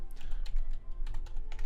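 Quick clusters of keystrokes clatter on a computer keyboard, close and fairly quiet, in short irregular bursts with brief pauses between.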